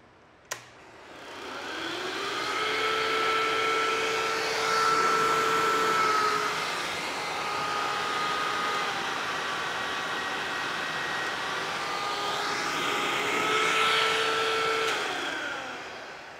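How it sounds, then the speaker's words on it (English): A vacuum cleaner powered by a sunlight backup solar system switches on after a sharp click, whines up to speed and drones steadily at close range for over ten seconds, its motor pitch wavering slightly before winding down. "start up the vacuum cleaner no problem"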